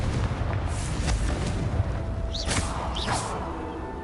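Confringo fire spell from Hogwarts Legacy bursting in a steady, dense rumble of blasts with whooshing rises over roughly four seconds, no talking.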